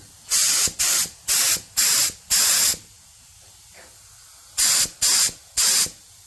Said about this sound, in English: if I sprayed it on something, maybe you could see it a little better